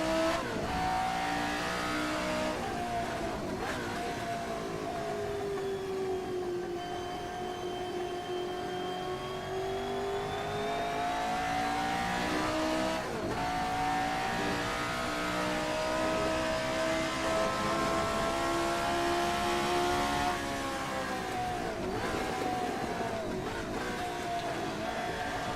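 A Cosworth DFV engine in a Formula 79 racer howls through repeated rising and falling rev sweeps over about twenty-five seconds, loud and close with bright harmonic overtones.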